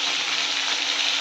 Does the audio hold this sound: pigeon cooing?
no